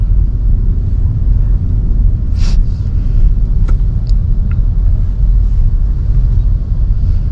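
Toyota Innova Zenix Q Hybrid pulling away in slow city traffic, a steady low rumble of road and engine noise heard from inside the cabin, continuous and fairly loud, with a brief faint high sound partway through.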